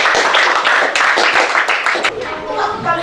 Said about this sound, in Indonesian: beri tepuk tangan untuk Teguh